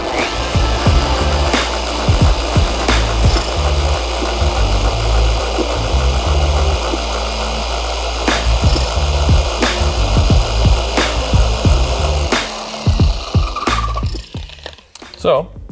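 A Rupes dual-action polisher works compound into car paint, pressed down hard with a steady loud motor whir and rubbing pad noise throughout, with a few sharp knocks along the way. It winds down near the end.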